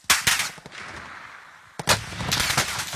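Gunshots ring out in two bursts of rapid, sharp reports, a cluster at the start and another volley near the end, loud and close with a reverberant tail and a lull between.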